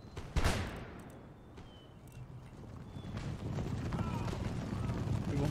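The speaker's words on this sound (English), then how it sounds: "here comes the cuirassiers to charge my square formation" Cavalry cuirassiers charging a square infantry formation in the Empire Total War video game, with a loud early crack and then a building rumble of galloping hooves and battle noise that swells toward the end.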